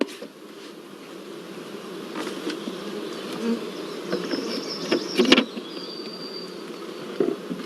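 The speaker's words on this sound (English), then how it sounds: "the bees are hived just like a natural swarm" A swarm of honey bees being hived like a natural swarm produces a dense, continuous buzzing drone, steady and moderately faint, with a few individual bees flying close and passing by.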